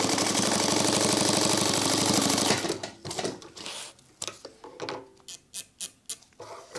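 A sewing machine runs a rapid, steady stitch for a couple of seconds while sewing a sling crossbody bag, then stops. Scattered mechanical clicks and handling knocks follow.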